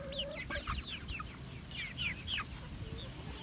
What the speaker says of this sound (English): chickens would also love to nibble on maggots